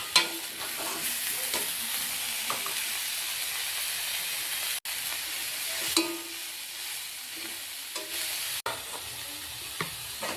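Broccoli frying in a pan while being stirred, a steady close sizzle and hiss running throughout with a few scraping stirs and short pauses, no voices.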